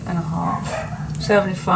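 Dogs barking at close range indoors in short yapping bursts, overlapping with a person talking.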